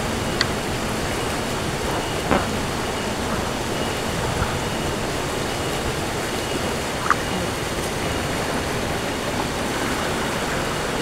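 Swift river current at a crossing near rice paddies, a steady broadband rush of fast water that stays constant and fairly loud throughout, with a few faint clicks on top and no talking.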